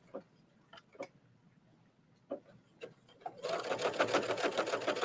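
A sewing machine runs a stay stitch on a trench coat collar, starting with a few scattered clicks and taps, then settling into a loud, steady fast whirr of stitching over the last couple of seconds.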